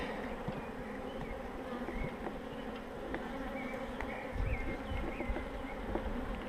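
Honeybees buzz steadily around an open hive of a swarm-started colony while brood frames are handled, a dense, continuous drone close by with faint knocks and handling noises beneath.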